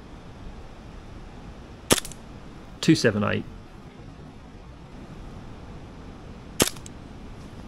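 Two sharp, loud shots from a Novritsch SSQ22 airsoft gun fired through a chronograph, one near the start and one near the end, with a short spoken number between them over steady background hiss.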